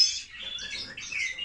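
Male Spanish-breed goldfinch chirping in a series of bright, rapid twittering notes, close and clear with no talking.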